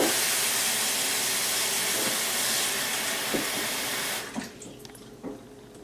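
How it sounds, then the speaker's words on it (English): Tap water pours steadily into a pan with a bright, rushing hiss, then cuts off, leaving a few drips and light clinks. "Fill the pan with water, enough water to cover them completely."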